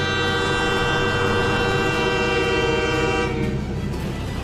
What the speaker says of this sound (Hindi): पहली बार पूर्वोत्तर के एक और अहम राज्य मिजोरम की राजधानी आइजोल में रेल की सीटी सुनाई दी।